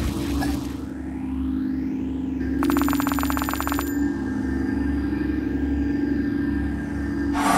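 A phone rings in the Kick The Buddy video game as Siri calls an ambulance, a loud electronic ringtone burst over game music with warbling sweeps.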